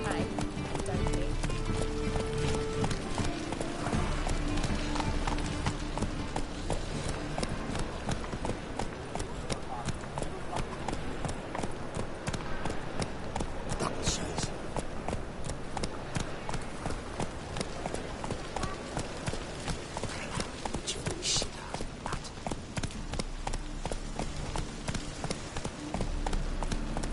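Roach, a horse in The Witcher 3, gallops with steady rhythmic hoof clops running the whole way through, partly masked by a loud continuous music and effects bed, while someone talks over it.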